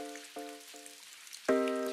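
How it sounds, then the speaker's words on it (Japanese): Steady rain falls throughout, a soft continuous patter running behind a few bright tonal chimes that ring out on top. "今は雨が降っていたのだ"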